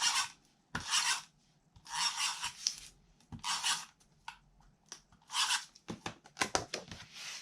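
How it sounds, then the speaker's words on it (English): A permanent tape runner is drawn across a paper mat in several short, rasping strokes with brief pauses between them, close and quiet, ending in a few quick clicks, with no speech. "I am going to use my permanent tape runner to place down some tape"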